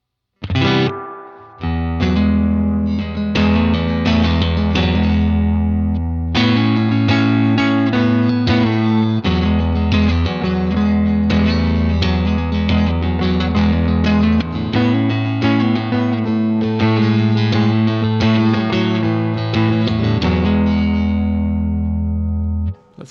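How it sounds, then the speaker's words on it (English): Heavily effected electric guitar chords through a Boss Space Echo RE-202 tape echo unit's reverb ring out with a long, washy reverb tail that sustains and blends the notes together. "Quite a lot of reverb."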